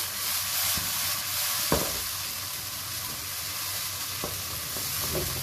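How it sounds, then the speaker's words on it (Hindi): Pumpkin curry with chili is stirred in a pan, a steady sizzle of frying running throughout, with occasional scraping knocks of the spoon against the metal; no one talks. "थोड़ा सा इसको मिक्स करते हैं।"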